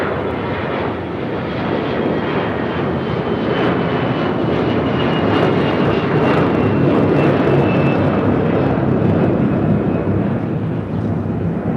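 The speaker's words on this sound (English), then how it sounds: "we're going to go to our first takeoff here, which is an Air Canada A321" An Air Canada Airbus A321 jet takes off from runway 25 right at LAX. Its engines give a loud, steady, broadband roar that holds for the whole stretch without pause.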